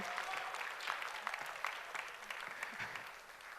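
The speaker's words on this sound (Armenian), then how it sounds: "Ծափահարությունները շարունակվում են," A pageant audience at the Miss Armenia 2019 final applauds continuously, a dense, fairly distant wash of clapping that holds steady for several seconds before easing slightly, with no voices over it.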